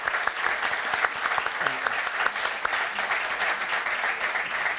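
An audience at a festival event applauds steadily, dense sustained clapping from a crowd at moderate distance, with faint voices underneath.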